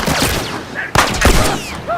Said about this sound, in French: je tire n'importe comment là